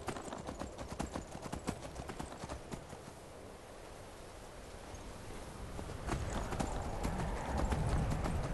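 Rapid hoofbeats of a horse galloping in Skyrim, a steady clip-clop rhythm running throughout with a brief whinny, the pounding growing heavier and louder toward the end.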